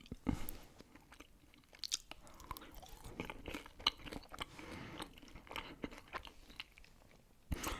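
Close, quiet chewing and crunching of McDonald's food in an ASMR tasting, with soft bites and wet mouth sounds at an uneven pace and no talking.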